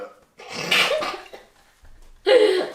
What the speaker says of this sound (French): j'ai reniflé fort parce que j'ai une énorme crotte de pif coincée dans le nez